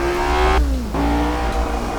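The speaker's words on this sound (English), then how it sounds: "Listen to that engine." A vintage race car lapping Monza in its 1966 layout in Assetto Corsa, its engine holding a loud, steady buzzing tone that dips sharply during a quick gear change and then picks back up.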